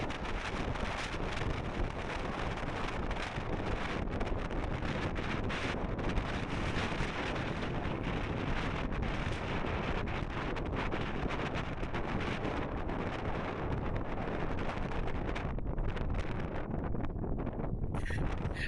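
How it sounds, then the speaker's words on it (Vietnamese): Strong wind blasts across the microphone high on Jade Dragon Snow Mountain at 4680 m, a loud, steady roar of buffeting gusts that never lets up, with no talking. "Còn giờ gió thổi tôi muốn bay mọi người."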